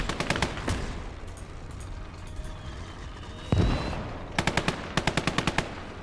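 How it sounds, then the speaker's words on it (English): Machine guns in the World War II game Call to Arms: Gates of Hell fire in rapid bursts, then a single heavy blast, followed by several short, loud, rhythmic volleys. "Right there was the machine gun."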